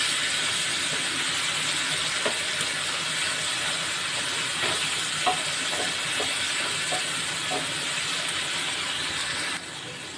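Garlic, green chili, tomato and onion paste sizzles steadily in a pan while shrimp do-peyaja is cooked, a continuous close hiss with a few faint clicks and stirring taps, no talking.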